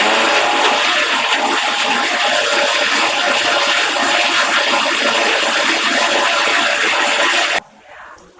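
An electric mixer grinder whirs loudly and steadily, grinding a thick theeyal paste of roasted coconut and spices for bitter gourd curry with no water added, then stops abruptly near the end.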